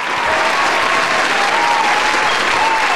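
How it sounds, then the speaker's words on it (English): A studio audience applauds loudly and steadily throughout, a thick, sustained roar of clapping with a faint crowd murmur beneath it. "Applause for me."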